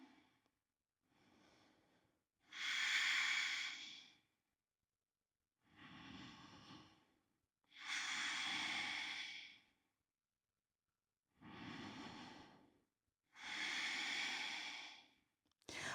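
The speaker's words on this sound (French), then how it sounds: "Respire, toujours respiration Ujjayi" Slow, deep Ujjayi breaths during a hatha yoga flow, each long hissing oceanic exhale or inhale lasting about two seconds, alternating with softer breaths and brief silences, close and clear with no talking.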